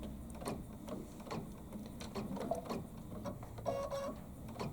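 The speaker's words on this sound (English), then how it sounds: "I'm just holding in my start stop button, and on this machine it will sew in slow motion" A Baby Lock embroidery sewing machine stitches slowly with the start/stop button held, giving a steady close mechanical whirring and ticking rhythm without speech.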